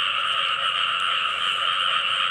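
A dense, continuous chorus of frogs croaks at night after rain, a steady buzzing mass of calls that fills the air without pause, heard alone without any talk.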